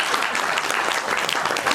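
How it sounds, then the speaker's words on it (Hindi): Audience applause at an awards ceremony in Delhi, a steady, dense wash of many hands clapping at close range without a break, no talk over it. "और ये उन्हीं लोगों ने ताली बजाई है"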